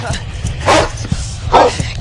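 A dog gives two loud, close barks about a second apart, with low rumbling noise and some voice underneath.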